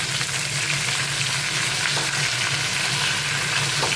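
Eggplant and potatoes fry with fish in a pan, giving a steady, loud, close sizzle. The crackle is continuous, with faint stirring noises and no voices.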